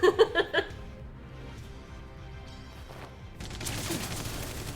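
Bursts of gunfire crackle at the start of a Final Fantasy XIII cutscene, a few sharp close shots in quick succession, then fade into a low rumbling bed that swells into louder wash near the end.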